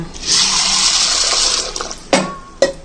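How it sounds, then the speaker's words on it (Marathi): Shevala vegetables washed under a running kitchen tap: a steady close hiss of flowing water for about two seconds, then two sharp knocks or splashes as the stream stops, with no talk. "धुवून घेते आणि मग ठेवून घेते"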